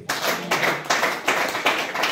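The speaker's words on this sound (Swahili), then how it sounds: "Pigia Bwana makofi mazuri." A church congregation at a Sunday service claps together in a steady rhythmic beat, about five loud bursts of applause in quick succession.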